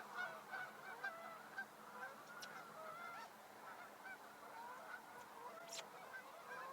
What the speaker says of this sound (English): I got a big squadron of geese over my head.